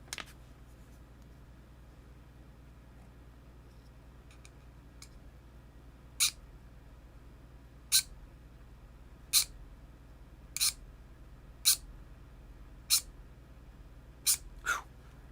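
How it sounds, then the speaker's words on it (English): Plastic model kit squealing as a panel line is scribed: about nine short, high-pitched chirps arrive at irregular intervals over a faint steady hum, with no talking. "When the plastic squeals like that, that's when you know you got a very, very, very smooth, even panel line."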